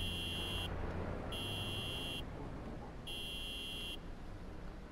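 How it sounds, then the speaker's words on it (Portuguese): Car horn in Cyberpunk 2077 sounding in three evenly spaced honks, each under a second, steady and tonal over a low engine rumble. "Ah, tá, era eu que tava buzinando"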